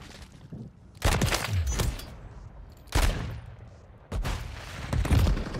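Several pistol shots fired in a first-person shooter game ring out as three loud, sharp bursts spaced about two seconds apart, each with a short echoing tail, alone with no talk.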